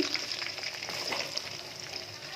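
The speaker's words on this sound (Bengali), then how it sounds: "তেজপাতা ফোড়ন দিলাম" Bay leaves temper in hot oil with a continuous, bright hissing sizzle and scattered crackles, loud and close, with no voices.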